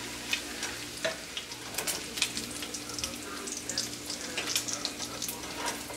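Bacon sizzles and crackles in a frying pan, a steady faint hiss dotted with small popping spits of grease throughout.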